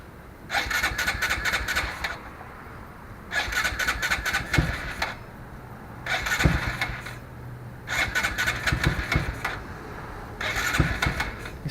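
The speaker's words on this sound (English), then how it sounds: "This is cold start up without the harness." A Honda Grom motorcycle with a Finbro ECU fails to start from cold, its starter whirring through five separate cranking attempts of about two seconds each, with short pauses and faint sputters between them.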